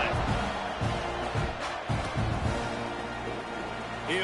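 A stadium crowd at a college football game roars steadily in the background, a broad, sustained wash of cheering with no clear peaks, while a commentator talks over it.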